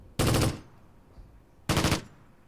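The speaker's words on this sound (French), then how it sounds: "Ça tire encore, je sais pas d'où mais ça tire encore." Two loud bursts of automatic gunfire crackle in the Close Combat war video game, about a second and a half apart, each a rapid machine-gun volley with quiet between.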